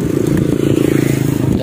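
Motor traffic passes on a village road with speed bumps, a steady close engine drone with rattling and scraping over it, heard while riding a bicycle and continuous throughout.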